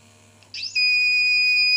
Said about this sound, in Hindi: इंजन स्टॉप हो गया अलार्म बज रहा है